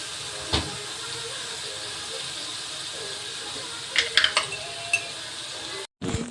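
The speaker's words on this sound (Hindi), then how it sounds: "पेस्ट जो बनाई थी उसे पेस्ट को अच्छे से हिला के उसे पकाना है।" Spice paste being stirred and cooked in a pan for drumstick sabji, a steady hiss and sizzle with a few clinks and scrapes of the spoon near the end, then a short cut.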